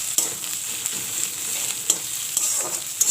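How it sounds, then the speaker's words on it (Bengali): Spice masala for ghugni frying in hot oil on a lowered gas flame, a steady close sizzle with occasional sharp pops and spatters, no talking. "মশলাটা প্রায় ভাজা হয়ে এসছে"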